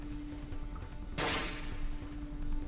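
A single loud gunshot in the horror video game Cry of Fear, a sharp close crack with a short decaying tail over a steady hum of game ambience.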